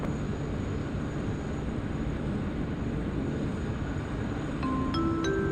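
An airliner on takeoff roll from runway 16 right at Sydney Airport gives a steady, broad engine roar that holds evenly throughout, with a few faint tonal beeps near the end.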